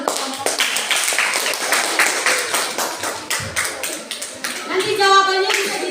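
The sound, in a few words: classroom clapping for a group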